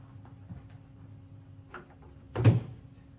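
A drawing room door in a house opens with a single short wooden thud and creak near the end, following a quiet stretch of faint room noise with a few small ticks.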